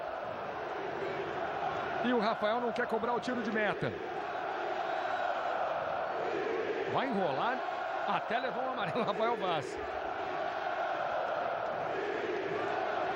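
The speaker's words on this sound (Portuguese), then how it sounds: "Olha aí o torcedor vascaíno já gritando bicampeão." A large crowd of Vasco supporters roars and chants at the Maracanã during a Carioca championship final, a steady stadium din under a commentator talking throughout.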